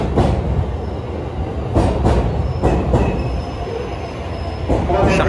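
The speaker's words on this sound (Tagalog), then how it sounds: "Ayan na guys yung train." Train pulling into a station in Tokyo, a loud close rumble of wheels on rails with rhythmic clacks and squealing, continuous through the few seconds.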